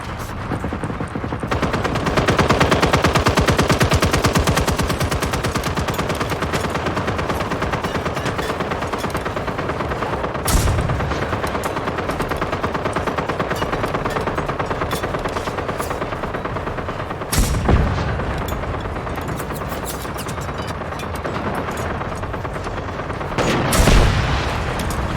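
Automated turrets in the video game Generation Zero pour out sustained, loud machine-gun fire in dense rapid bursts, with a few heavier booming impacts standing out near the middle and end.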